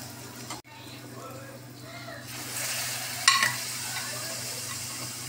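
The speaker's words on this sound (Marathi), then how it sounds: "आता आपण त्यामध्ये मटण टाकून व चवीनुसार मीठ टाकून छान परतून घेऊ।" Mutton pieces fry in a pan with onion, tomato and ground masala while being stirred, sizzling softly under a brief metallic clink of the utensil, close by, and the hiss swells louder partway through.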